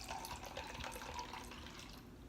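White wine pours steadily into a glass close by, a continuous soft splashing trickle lasting a couple of seconds.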